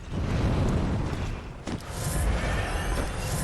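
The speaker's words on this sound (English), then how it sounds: "Underestimated the flame spray there." Roaring flame spray attack from Bloodborne, a dense, sustained whooshing burn filling the whole stretch with a brief dip midway, loud and close with no talking over it.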